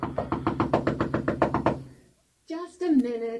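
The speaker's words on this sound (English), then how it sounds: "Knock louder." Knuckles rap on a door about a dozen times in a quick, even sequence of firm knocks, followed by a short pause and then a voice speaking.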